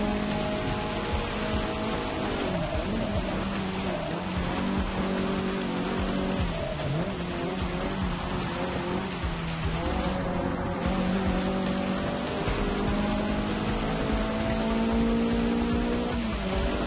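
Rain in the racing video game Forza Motorsport 6 hisses continuously beneath roaring race car engines that rise and fall as the cars shift gears, with occasional tire squeals.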